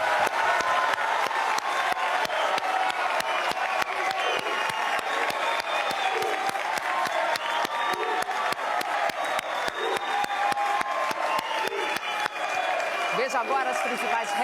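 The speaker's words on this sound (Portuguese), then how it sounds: "Eu peço à plateia, somente agora, uma salva de palmas para os nossos 8 debatedores." A studio audience at a televised mayoral election debate gives sustained applause for the candidates, continuous dense clapping with scattered cheers and whoops running throughout at a steady moderate level.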